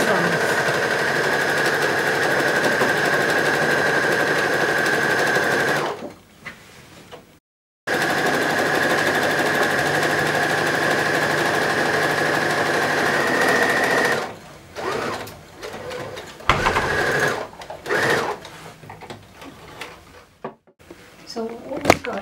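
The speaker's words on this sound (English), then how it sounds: "all I'm doing is I'm sewing all the open sides." A sewing machine runs steadily while stitching the open sides of fabric for a kachera, a close continuous whir that stops, restarts, then gives way to clunks and handling knocks with speech nearby.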